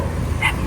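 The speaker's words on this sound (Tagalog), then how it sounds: "Ang dami mong aso." A short dog bark with a slight whimpering yip from one of many dogs around a woman's home, a single close burst lasting under a second.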